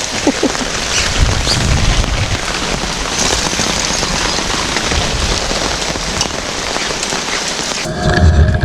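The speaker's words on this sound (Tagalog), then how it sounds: "Nagliligpit na kami, inabot ang ulan." Heavy rain pours steadily and loudly on a campsite, a dense hiss of drops striking surfaces, with low rumbling underneath.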